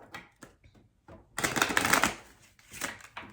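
Tarot cards being shuffled by hand, a few soft riffles and taps at first, then a loud, dense burst of shuffling in the middle and a shorter flurry near the end, close up with no talk.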